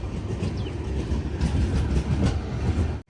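Kacheguda Murdeshwar Express pulling out of Nileshwaram station, heard from the sleeper coach as a steady, loud rumble of rolling wheels and rail clatter that cuts off abruptly at the end.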